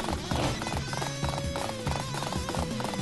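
Rhythmic hoofbeats of a galloping horse in the video game Dynasty Warriors 8, steady and close, over a busy bed of music and battle noise, with a brief whinny.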